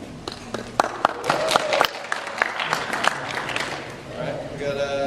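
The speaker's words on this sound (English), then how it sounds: "We got a winner. A round of applause." A crowd claps for a raffle winner at an event, a short burst of applause that rises and then fades. A voice talks over it, with a brief musical tone near the end.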